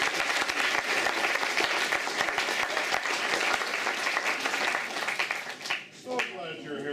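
A seminar audience applauds for songwriter Ralph Murphy, steady dense clapping filling the room for several seconds before it thins out, with a voice speaking near the end.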